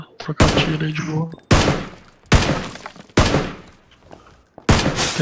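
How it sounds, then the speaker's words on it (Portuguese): Sharp gunshots ring out in a rapid exchange in the video game PUBG, about five loud reports with echoing tails, some distant rattling fire between them. "Deixa a galera trocar tiro aí de boa."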